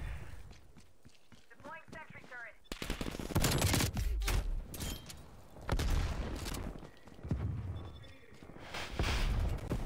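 Enemies shoot in a video game, producing repeated loud bursts of rapid gunfire that come and go in waves, mixed with talking voices.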